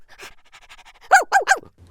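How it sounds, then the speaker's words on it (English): A dog barks up at a monkey in a tree. Soft panting-like huffs lead into three sharp, close barks in quick succession near the end. "Why are you looking up at the tree and barking?"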